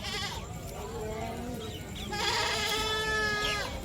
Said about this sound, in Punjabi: ਬੱਕਰੀਆਂ ਆਪਣੀਆਂ ਨੇ ਇਹ